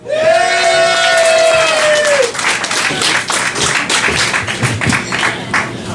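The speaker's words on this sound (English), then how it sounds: "Big round of applause for James Paulk." A comedy club audience at Cafe Diem breaks into loud, close applause and cheering, a dense clapping roar that follows a sustained musical tone and continues throughout.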